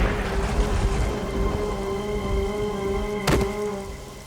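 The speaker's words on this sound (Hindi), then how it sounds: "रिमझिम करके बारिश का पानी गिरने लगा राजा के सर पर" Steady rain pours down in a forest, a continuous broadband hiss with a low musical drone underneath and one sharp crack partway through.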